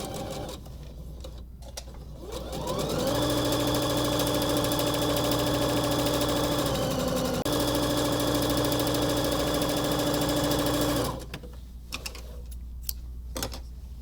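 Sewing machine stitching short seams on a quilted bag, a steady mechanical whir that starts after a couple of seconds, runs continuously for about eight seconds, then stops, close and loud with no talk.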